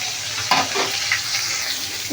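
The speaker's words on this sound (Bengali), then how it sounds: "এই মাছের মাথাটা ভাজতে কিন্তু বেশ কয়েক মিনিট সময় লাগছে দেখো আমি বারবার উল্টে পাল্টে দিচ্ছি" Fish heads frying in hot oil for a Bengali bottle gourd dish, turned over again and again: a steady close sizzle with a few sharper clatters as the pieces are flipped in the pan.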